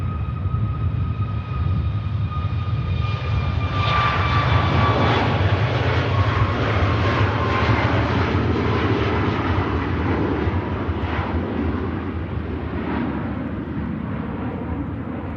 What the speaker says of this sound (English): Here goes a Ryanair. Tenerife.